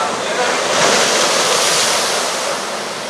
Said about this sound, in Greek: Τα κύματα κάλυπταν το λιμενό βραχίωνα,